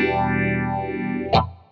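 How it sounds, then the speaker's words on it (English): A Stratocaster on the bridge pickup runs through an Electro-Harmonix Stereo Polyphase phaser, so one sustained chord sweeps in a swirling phase-shifted tone, then a brief sharp strum or click near the end. "let's engage the stereo polyphase"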